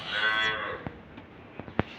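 A weakened dairy cow gives one long, loud moo up close, followed by a few faint, sharp knocks and taps in a quieter stretch.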